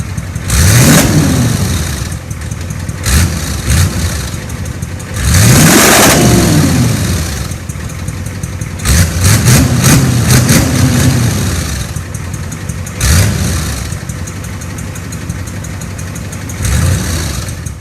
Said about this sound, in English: And now the truck sounds amazing.